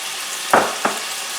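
Garlic, carrots and onions sauté in a pan for a quick quinoa stir fry, a steady close hiss with two short thumps or scrapes in the middle.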